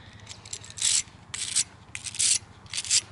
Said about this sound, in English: you take a wire brush